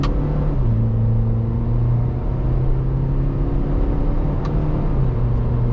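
A 2015 MINI Countryman S ALL4 on the road in sport mode, its engine droning steadily and dropping in pitch at paddle-shift upshifts from first to second, with continuous road rumble underneath.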